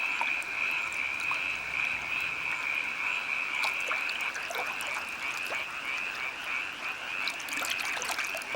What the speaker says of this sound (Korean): 밤에도 짝을 찾는 무당 개구리들의 전투는 계속된다.